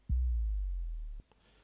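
An 808 Jungle sample sounds as a single deep, booming 808 bass hit that sustains for about a second and cuts off abruptly, followed by a faint tick in otherwise quiet surroundings.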